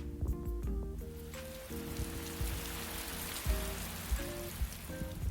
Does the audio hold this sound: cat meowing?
no